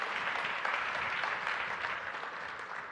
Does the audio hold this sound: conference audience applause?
yes